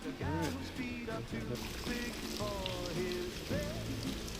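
Rain falls on a backpacking trip in Big South Fork, a steady soft hiss that runs throughout beneath a voice humming or singing a tune up close.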